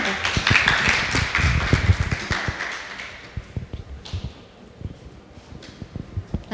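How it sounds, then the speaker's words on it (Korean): Audience applause welcomes a guest author onto the stage at a book talk event. It starts as a dense burst of clapping, then thins into scattered, separate claps that fade out. "저희가 무대로 모실 테니까 큰 박수로 좀 환영해 주세요"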